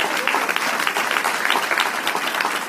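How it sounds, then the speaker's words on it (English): Campaign rally crowd in Huntington Beach, California, applauding steadily, a dense wash of many hands clapping that holds at an even level throughout with no break. "Give yourselves a round of applause."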